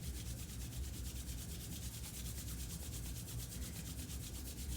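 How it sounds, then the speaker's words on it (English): Hands rubbing together make a steady, close, soft swishing friction that continues evenly throughout with no talking. "Bring your hands together in front of your heart and just rub them together"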